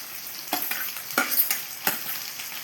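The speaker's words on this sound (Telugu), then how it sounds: "చూడండి, ఉల్లిపాయలు వేగుతున్నాయి." Chopped onions sizzling and frying in a pan, with a few louder stirring scrapes breaking through a steady hiss; close and fairly loud, no voices.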